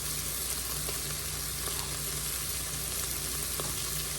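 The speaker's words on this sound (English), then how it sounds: "I'm going to get some tomato paste here in the pot." Tomato paste sizzles steadily in a hot pot of Texas red chili, a constant broadband frying hiss with a low steady hum beneath and a few faint clicks of stirring.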